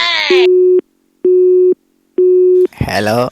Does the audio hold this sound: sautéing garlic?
no